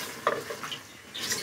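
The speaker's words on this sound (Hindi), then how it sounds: "ये हम इसको अच्छी तरह भून लेंगे" Liver spice mixture stirred and fried in a pan, a close spoon scrape over a soft continuous sizzle, with a second scraping stroke toward the end.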